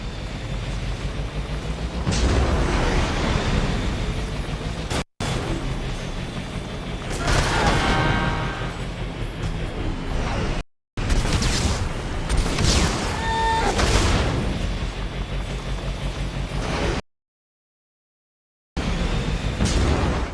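Guided missiles explode in Mass Effect 2, a series of loud booms and crackling blasts with rumbling debris, arriving in several bursts separated by brief silences.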